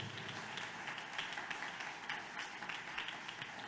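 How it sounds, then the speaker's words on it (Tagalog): A church congregation at a JMCIM preaching service claps loudly together, a dense, steady wash of hand claps filling the room without speech on top. "pumalakpak ng malakas sa ating malapit"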